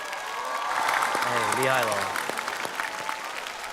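A studio audience at a street-dance competition show applauds, broad clapping swelling under a man's excited exclamation and then tapering off.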